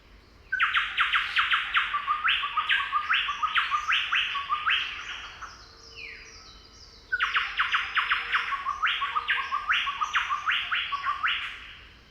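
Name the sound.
Chowchilla song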